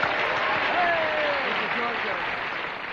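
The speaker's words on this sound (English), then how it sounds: "cue the clap now" Applause sound effect played on cue during a radio show, a steady, dense wash of clapping lasting about three seconds at even loudness before cutting off abruptly, with voices faintly underneath.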